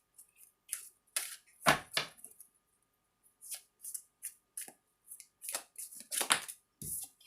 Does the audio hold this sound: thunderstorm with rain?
no